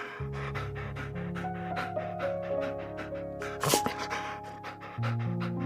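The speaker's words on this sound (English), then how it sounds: "Dog." A dog pants rapidly and steadily, quick rhythmic breaths over a continuous low hum, with one brief louder rustle or snort partway through.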